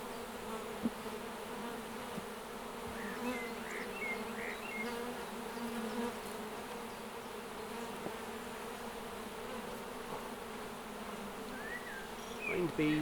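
Honey bees buzz around open hive frames in a steady, faint, continuous hum, with a few individual bees passing close and small handling noises now and then.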